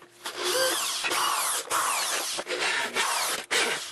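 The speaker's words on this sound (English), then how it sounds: "Time to start drilling some of these out." A power drill bores holes through an aluminum heat shield, whining in repeated bursts of a second or so, separated by short pauses, loud and close with no talk.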